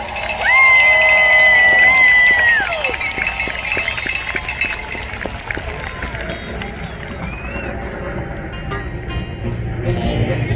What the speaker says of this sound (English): a big round of applause for all the people who work so hard on putting all this together